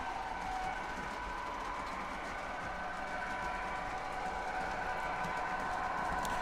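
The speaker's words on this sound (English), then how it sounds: "I haven't touched the speed at all on this locomotive, and she can just coast and coast and coast" A model train locomotive coasts along the track in conventional mode, giving a steady, even rolling hum and faint rail clatter that runs throughout with no talk.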